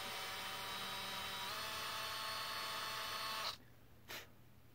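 A steady high-pitched power drill whines continuously while drilling holes in a guitar body for a Floyd Rose tremolo, then cuts off abruptly, followed by a brief second burst of drilling.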